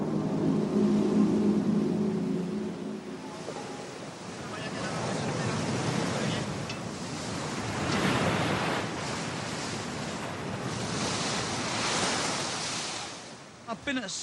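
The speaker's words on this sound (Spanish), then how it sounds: "Y así navegamos sin rumbo fijo por el mar, esperando a que cesara la furiosa tempestad." Roaring surf and gusting wind of a stormy open sea, a continuous broad wash that swells and recedes in long surges, loud and close, with wind buffeting the microphone.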